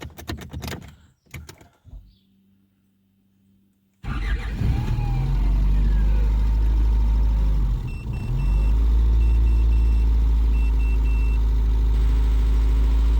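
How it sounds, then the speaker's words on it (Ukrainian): A GAZ 406 engine in a car fires up after a few clicks and some quiet, then runs loud and steady at idle with a brief dip in revs midway. "Моторчик працює."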